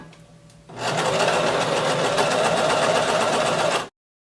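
A sewing machine runs a seam in one continuous burst of fast, even whirring close by, starting abruptly and stopping dead after about three seconds.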